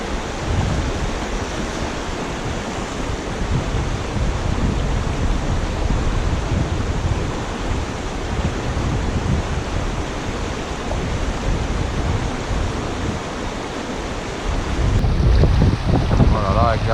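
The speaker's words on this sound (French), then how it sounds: "Voilà, là avec les rafales de vent." Steady, roaring wind gusts batter the microphone at a riverside nymph-fishing spot, giving a broadband rush that swells louder near the end. No voices are heard.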